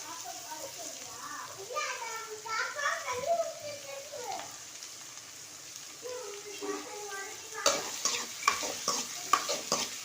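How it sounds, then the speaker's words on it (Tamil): Onions sauté in a pan for a dried milk-shark fish curry, a soft sizzle with occasional stirring scrapes, while a person talks over it and clatter picks up toward the end. "வெங்காயம் நல்லா வதங்கட்டும்"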